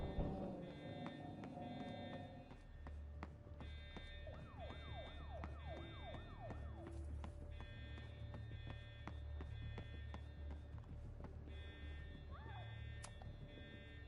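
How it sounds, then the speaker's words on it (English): Wailing sirens sweep up and down repeatedly across the scene in the game Life is Strange: Reunion, coming from the observatory, layered over steady ambient music and background hum. "why do I hear sirens coming from the observatory?"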